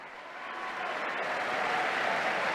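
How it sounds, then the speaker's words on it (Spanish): A crowd of pilgrims and faithful in the Paul VI audience hall applauds the Pope's arrival, the clapping swelling from moderate to loud and staying dense and steady. "escuchamos pues, a todos los peregrinos y fieles el gran aplauso por su llegada"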